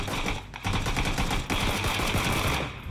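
Rapid automatic gunfire in PUBG, dense bursts of shots fired in quick succession with a brief pause, loud and close.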